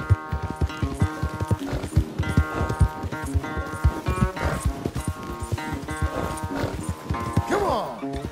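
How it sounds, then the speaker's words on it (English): In Red Dead Redemption 2, a horse's hooves clop irregularly at close range in a corral, building to a loud neigh near the end, with scattered movement sounds around it. "Where's that big, mean horse?"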